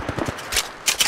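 A few short, separated gunshot bursts in the shooter game Apex Legends, moderately loud with gaps between them.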